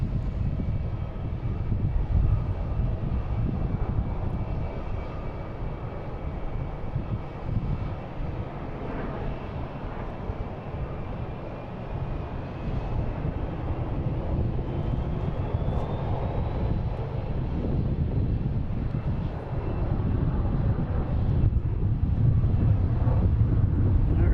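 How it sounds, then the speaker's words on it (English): A United Airlines Boeing 737 MAX 8 arriving from Los Angeles at Boston Logan International Airport, its jet engines roaring steadily and loudly for the whole stretch, mixed with wind buffeting the microphone and no talking. "I will stick with the arrival of United Airlines coming from LAX, 737 MAX 8."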